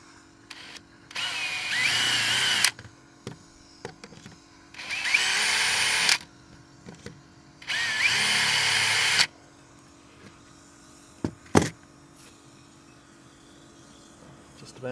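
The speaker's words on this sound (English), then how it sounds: "I'm not going to drill that all the way through" Power drill boring holes into a Contessa 32 sailboat deck while fitting deck gear: three loud, close whirring bursts of about two seconds each with pauses between, followed by a few clicks and taps.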